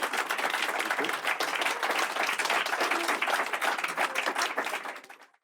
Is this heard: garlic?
no